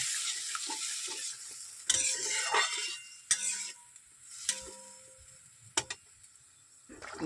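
Water comes to a boil in a pan for katla fish curry, a soft bubbling hiss broken by sharp clinks and scrapes of a utensil against the pan, fading quieter toward the end.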